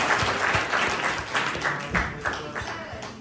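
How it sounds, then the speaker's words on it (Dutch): Audience applause for a script operator at a show: dense, continuous clapping from a crowd, fairly close and even, tapering slightly at the end. "geef hom lekker applaus"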